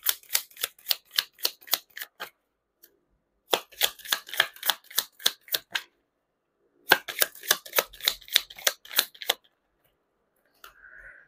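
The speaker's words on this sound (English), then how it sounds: "Let's actually pull up three cards from this deck." Tarot cards riffled in three quick rounds, each a rapid run of crisp, close flicks and snaps separated by short silent gaps, soft and close.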